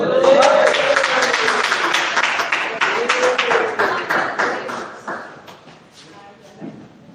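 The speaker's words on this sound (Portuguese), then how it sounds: "Mais palmas para Jesus." A church congregation applauding with dense, steady clapping that gradually thins and fades out, with a voice audible over the start.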